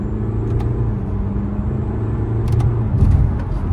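A BMW driven in sport mode, with a steady engine and road rumble from inside the cabin and small shifts in tone as the transmission changes gear.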